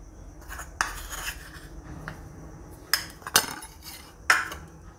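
A spoon scrapes and clinks against a bowl while wheat flour and gram flour are stirred together for gulgule batter, with a few sharper taps on the rim standing out from a steady rubbing.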